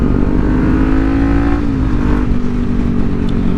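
Lamborghini Murcielago engine revving loudly as it passes close by, a steady sustained roar heard from a motorcycle on the road, with no talk over it.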